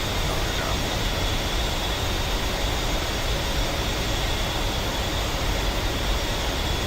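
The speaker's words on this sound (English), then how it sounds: "that was a nice successful landing. No flaps landing." A simulated aircraft in a flight-sim combat game lands without flaps, giving a steady, loud, unbroken roar of engine and rushing air that fills the whole stretch with no other distinct sounds.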